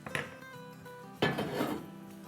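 A metal spoon scrapes and clinks against a cooking pot while cooked chana dal is dished out, with a soft knock early on and a louder clattering scrape midway, fairly quiet overall.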